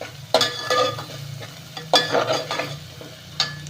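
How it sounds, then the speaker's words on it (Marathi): Onion fries in a pan for chicken curry while being stirred, sizzling steadily under repeated scraping strokes of a spoon against the pan. "कांदा मस्तच भाजलाय अजून बी थोडासा छान भाजलं"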